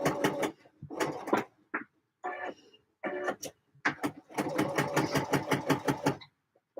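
A home sewing machine stitches red scrunchies in several close, rapid bursts of needle chatter separated by short pauses, with one longer steady run near the end.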